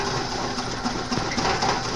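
Rough, uneven running of a 1997 Suzuki Baleno engine with the number 3 spark plug cable pulled, a continuous buzzing mechanical drone with irregular stumbles, loud and close.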